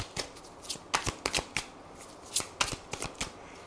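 Tarot cards shuffled up close in a quiet room, a run of crisp, irregular riffling bursts and soft flicks with short pauses between them, no talking.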